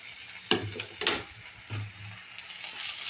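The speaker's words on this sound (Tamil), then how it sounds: "இது கொஞ்சம் நேரம் நல்லா வதங்கட்டும்" Vegetables sautéing in a pan for a raw banana and egg stir-fry, soft continuous sizzling broken by a few sharp spatula scrapes and clinks, close and moderately quiet, with no talking.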